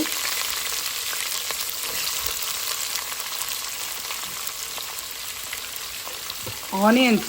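Onions fry in a pan for a Telugu tempering dish, giving a steady, close sizzle throughout, with a brief voice breaking in at the very end.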